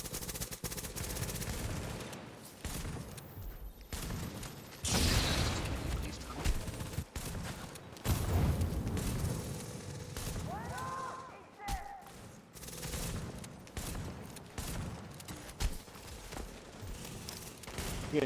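Dense bursts of automatic gunfire and shots from The Division video game fill the scene, loud and repeated, with mechanical clatter and occasional other game sounds between volleys.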